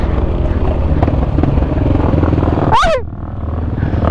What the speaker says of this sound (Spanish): Una moto de enduro viene aquí